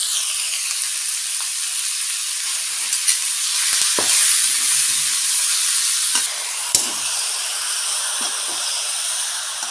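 Chicken for Pallipalayam chicken sizzling and frying in a hot pan, a steady bright hiss with occasional scraping and stirring clicks, no talking.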